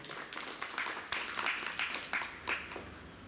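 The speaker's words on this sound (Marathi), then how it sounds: "त्याच्यासाठी सर्वांनी जोरदार टाळ्या वाजवावी." Audience clapping at a Marathi anniversary celebration in Shahapur, a dense patter of hands with several swelling bursts, moderately close and steady over a few seconds.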